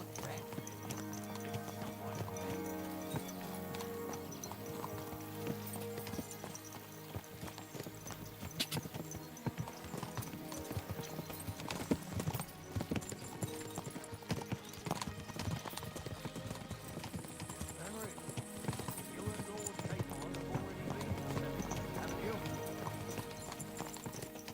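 Steady clip-clop of horse hooves trotting throughout in the video game Kingdom Come: Deliverance II, with background music and a whinny, while people talk over it.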